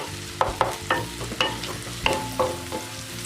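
Sliced onions sizzle in hot oil in a pan for bitter gourd fry, with repeated close scraping and stirring strokes over a steady frying hiss.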